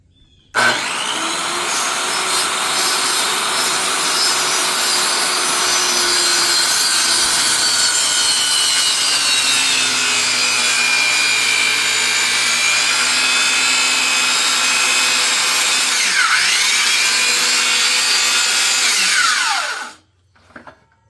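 A saw cuts steadily through large timber boards for a driveway gate. The loud, continuous grinding whine runs for about nineteen seconds, then stops abruptly.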